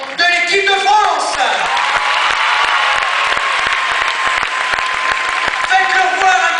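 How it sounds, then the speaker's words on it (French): Loud crowd applause fills an arena at a France versus Japan karate event in Rouen, dense clapping with whoops and shouts, while an announcer's voice talks over the start and end. "Et on peut bien sûr applaudir l'équipe d'encadrement de l'équipe de France."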